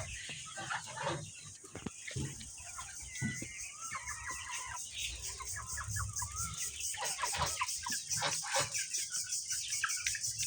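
A flock of about two hundred two-month-old chickens clucks and chirps continuously on a poultry farm, a dense chorus close by with no talk.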